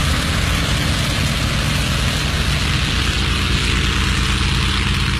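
US carrier aircraft taking off to attack the Japanese fleet, a dense continuous roar of propeller engines, loud and steady with no voices over it.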